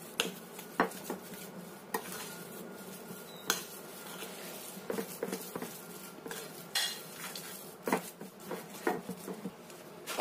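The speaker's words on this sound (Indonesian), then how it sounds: "Kita aduk lagi sampai tercampur rata." Utensils scrape and clink against a pan in irregular strokes, with soft tapping hits throughout and a faint background hiss.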